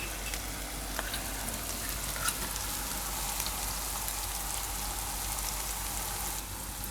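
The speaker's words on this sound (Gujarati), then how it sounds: "તો ગેસ એકદમ ધીમો કરી દઉં અને આમાં નાખી દઉં આપણે આ દહીં." Yogurt sizzling in a pan over a low gas flame for a Rajasthani dahi mirchi dish, a soft, even crackle like light rain, close and steady with occasional small pops and no voices.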